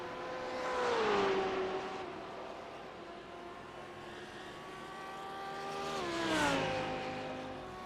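Lamborghini race cars in a racing video game practicing for the Sebring 12 Hours, engines whining and revving as two cars sweep past one after another, each rising loud and then falling away in pitch with steady motor drone between the passes.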